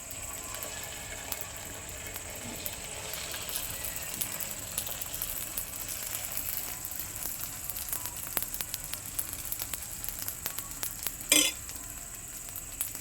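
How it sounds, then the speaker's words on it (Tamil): Sprouted green gram dosa batter frying on a hot pan, a steady soft sizzle with faint scraping and clinks, plus one brief louder clatter near the end; no voices. "இருங்க தோசை சுட்டுடலாம்."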